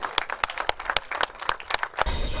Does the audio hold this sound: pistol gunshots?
no